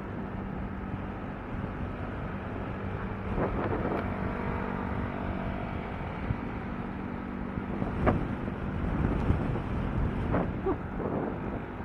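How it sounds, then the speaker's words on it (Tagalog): Strong wind buffets the microphone in a steady, rushing roar while a vehicle travels along EDSA from EDSA Shrine toward Cubao, with a low traffic and engine rumble underneath and a few brief knocks. "Binabayo tayo ng hangin."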